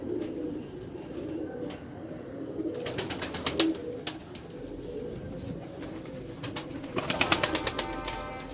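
Pigeons coo softly nearby in a low, murmuring rhythm, with sharp clicking taps and rustles rising in two livelier bursts.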